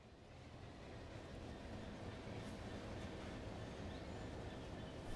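An intermodal freight train with FKA wagons passes in Train Sim World 5 near Manchester Piccadilly, giving a continuous rolling rumble with rhythmic wheel clatter at moderate volume and no voices.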